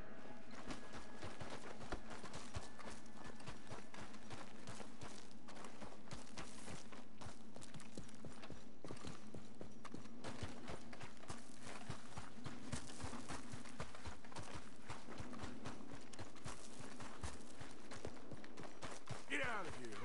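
Horse hooves clip-clop at a steady walking rhythm in Red Dead Redemption 2, fairly quiet and continuous beneath other ambient game sounds.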